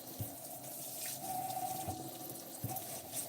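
Cool tap water runs steadily into a sink while an American Girl doll's original wig is rinsed, a constant soft gush with a few light knocks and splashes, close by and with no talking.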